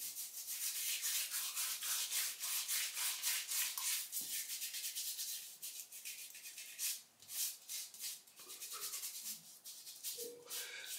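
Close, soft rhythmic brushing and rubbing of Classic Tabac shaving soap lather into the face, a steady scratchy swish that continues for several seconds with brief pauses.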